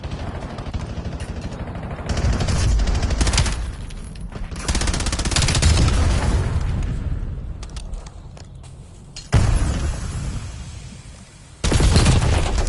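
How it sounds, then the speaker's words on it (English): Rapid-fire shotgun blasts from the video game Black Ops 7 come in dense, loud bursts of repeated shots with brief pauses between them, up close and with no talking. "The shotgun with rapid fire on it."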